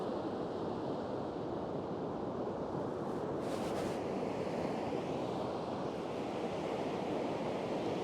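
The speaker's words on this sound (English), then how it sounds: "when the waves are hitting those sandbars" Ocean waves break over sandbars along a Norwegian shoreline, a loud, continuous surf roar mixed with wind rushing across the microphone, no voices present.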